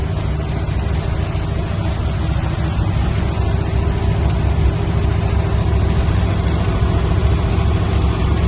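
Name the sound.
hail falling on a car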